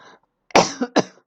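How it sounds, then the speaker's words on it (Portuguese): Two sharp, loud coughs in quick succession, close by, after a brief murmur of voice and a moment of silence. "Cá está a tosse."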